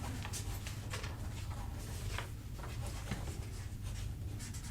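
A pen writes on a piece of paper during a relaxed couch conversation, steady scratchy strokes in short bursts, close and continuous over a low background hum.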